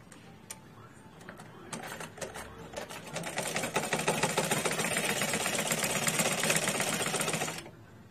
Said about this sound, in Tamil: இப்படி ஓரமா வச்சு நம்ம தைக்கணும்.